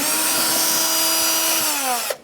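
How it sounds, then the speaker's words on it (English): A cordless power drill with a Phillips bit backs out screws while removing the engine cooling fan assembly on a 2014-2019 Kia Soul 1.6L L4, one steady close whine that slowly drops in pitch before stopping abruptly. "Using a Phillips head bit on my drill, we can take these 3 out."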